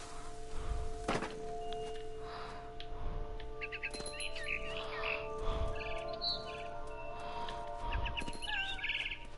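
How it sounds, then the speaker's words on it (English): A barn swallow chirps outside a window in the video game What Remains of Edith Finch, with quick high twittering calls scattered over a steady ambient hum and a few soft low thumps. "Then I heard chirping outside my window."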